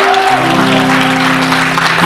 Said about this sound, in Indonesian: boleh kasih tepuk tangannya dong.